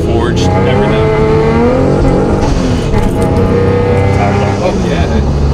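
Tuned car pulling hard on a wet road with cold tires: a loud, close engine rises through the revs in strong, continuous harmonic sweeps, with a brief break between pulls and talk over it.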